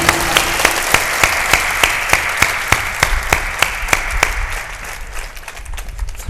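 Loud, steady audience applause at a stage show in Murpar, Rajnandgaon, Chhattisgarh, with a few sharp individual claps standing out in a fairly even rhythm, fading slightly toward the end.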